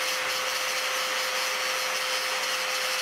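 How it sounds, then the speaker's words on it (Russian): Angle grinder cutting and an electric drill at work on plastic and an iron pipe while a homemade earthquake-forecasting seismology device is built; a steady, dense, high whine runs without pause. "Они пилят болгаркой, сверлят дрелью"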